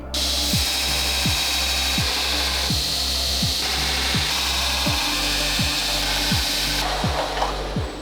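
A power grinder runs steadily while shaping the silhouette of a forged Damascus chef's knife, with a continuous whine and regular rhythmic pulses as the blade is worked against it, loud and close with no talk.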